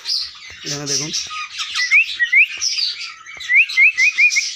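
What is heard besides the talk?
baby Indian ringneck parrots chirping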